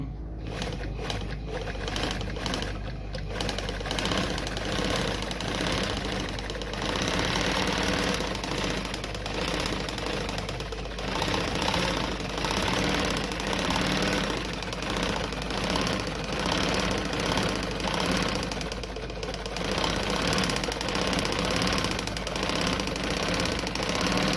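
A Frister & Rossmann model A-Z sewing machine stitches steadily, a close, continuous mechanical whirr with a rapid rhythmic clatter that runs almost unbroken for over twenty seconds, pausing only briefly near the start.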